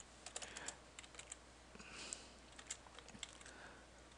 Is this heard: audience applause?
no